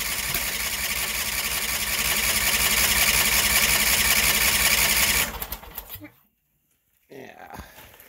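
Sears Suburban lawn tractor with a 20HP V-twin engine cold-cranking in winter, a steady loud churning drone for about five seconds that cuts off abruptly, then brief silence and someone speaking.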